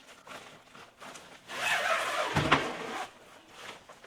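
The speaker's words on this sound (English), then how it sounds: "And then once it's on, I'm just going to pull this zipper down." A zipper slides down an outdoor cover for a 60 to 65 inch rolling TV stand, a close, rasping pull lasting about a second and a half. Fabric rustles softly before and after.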